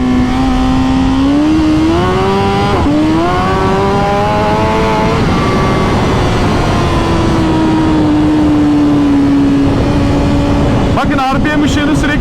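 A BMW S1000RR motorcycle engine drones loudly and close while riding on Istanbul streets, with its pitch rising and settling through gear changes. Heavy wind noise and a rider talking run over it.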